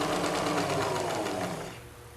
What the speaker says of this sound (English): Now I'm going to do these two, and then I will show you how to sew the two sets together.